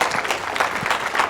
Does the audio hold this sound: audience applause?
yes